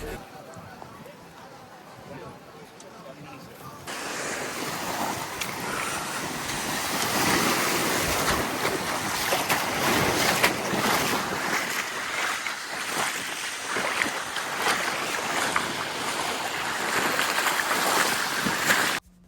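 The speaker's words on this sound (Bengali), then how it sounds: "এই যে আমার পিছনে আপনারা সমুদ্র দেখতে পারবেন এখনই।" Steady roar of surf and breaking waves swells after a few seconds and continues loudly, with wind buffeting and some voices underneath.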